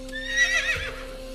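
A horse neighs with a long, high whinny over a steady background drone in a meditation setting, moderately loud with no talking.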